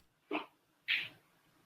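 A dog gives two short whining whimpers about half a second apart, fairly close and clear over a quiet background.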